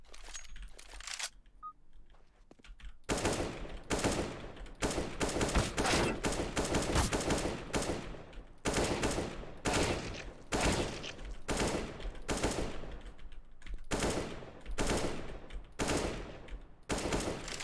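Rapid gunfire in CS:GO pre-fire practice, a video game, comes in repeated loud bursts and volleys after a quieter opening of a few seconds, tightly spaced shots continuing to the end.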